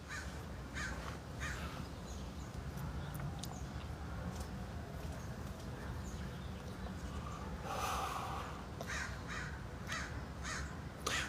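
A crow caws several times in short bursts over a steady outdoor background, clear but not close, with no talking.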